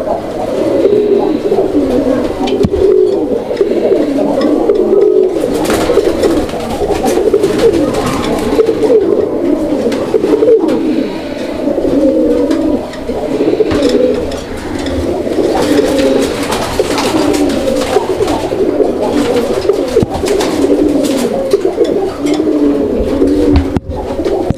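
Raj-golla pigeons at a pigeon market coo continuously and loudly, many birds layering overlapping throaty calls close by, with faint human voices in the background.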